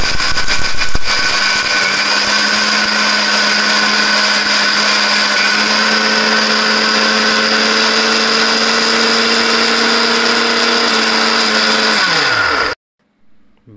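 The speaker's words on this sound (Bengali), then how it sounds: "ব্লেন্ডারে ভালোভাবে ব্লেন্ড করতে লাগবে।" An electric blender grinding roasted grains into sattu flour roars loudly and steadily with a whining motor tone for about twelve seconds, then cuts off abruptly into near silence.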